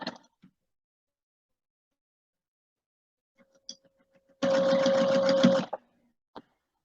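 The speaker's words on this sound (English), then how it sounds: "I'm just going to sew them with 1/4 inch seam allowance." A sewing machine stitches quilt pieces for a star block at a quarter-inch seam, running in one steady burst of a little over a second, preceded by a few faint clicks and followed by a single tap.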